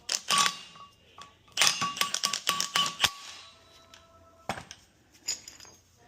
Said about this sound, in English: First thing I do is spin down the crank bolt